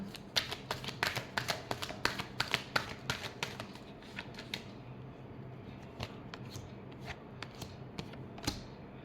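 A deck of tarot cards riffled and shuffled by hand, a rapid run of crisp flicking clicks for several seconds that thins into scattered taps, close up and fairly quiet, with no voices.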